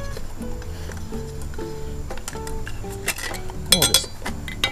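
Metal canning lids clink one after another onto freshly packed glass jars of sweet and spicy pickles, a run of light, bright taps and rattles, close up and quiet, with a sharper cluster of clinks near the end.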